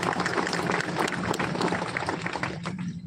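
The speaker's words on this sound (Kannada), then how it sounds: "ಒಪ್ಪಿಗೆ ಆದರೆ 2 ಚಪ್ಪಾಳೆ ತಟ್ಟಿ." Crowd at an outdoor procession rally in Puttur, clapping steadily and densely for about three seconds, fairly loud and continuous, tapering slightly at the end.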